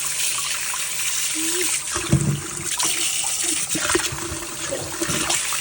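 Jerusalem artichokes from a home garden rinsed under running water, a steady loud rush of the tap with splashes and a few knocks as the tubers are handled.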